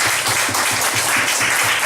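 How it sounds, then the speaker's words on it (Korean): Congregation in a church breaks into sustained applause, a steady dense wash of clapping with rhythmic low thumps running underneath throughout. "하나님 앞에 영광의 박수 돌리라고 합니다."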